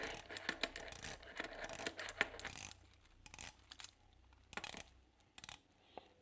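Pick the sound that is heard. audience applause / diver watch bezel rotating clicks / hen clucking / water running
diver watch bezel rotating clicks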